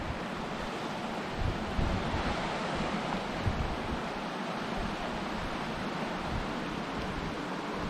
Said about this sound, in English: Good flow of water going down through her today.